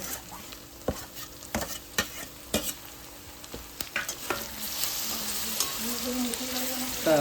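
Onion and tomato frying in a pan for biryani, with loud scraping stirs and spoon knocks over a constant sizzle that grows denser toward the end.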